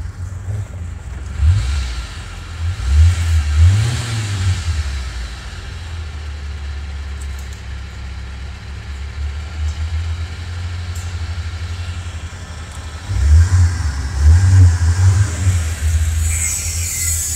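An old-school car engine revs in two loud, rumbling bursts separated by a long steady idle, close by and low-pitched, with no talking.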